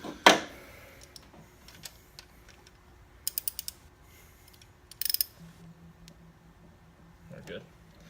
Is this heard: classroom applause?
no